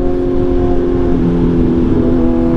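A Kawasaki Z1000R motorcycle engine runs at a steady idle, its harmonic drone loud and close, with no other sounds.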